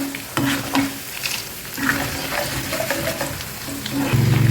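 Steady sizzling of lentils frying in hot oil on low heat as tempering for mango pickle, with scraping stirs and clinks throughout, close and moderately loud.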